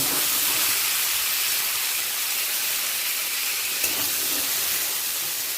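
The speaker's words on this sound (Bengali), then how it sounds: "দিয়ে একটু ভালো করে ভেজে নেব" Diced carrots, beans, potatoes, green peas and green chilli fry in a pan with a steady loud hiss and sizzle that continues unbroken throughout, close up and without speech.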